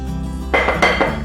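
A utensil scrapes and clinks against a bowl while flour is mixed with cardamom and salt for mathi dough: a few close, quick scraping strokes over a low room hum, with no talk.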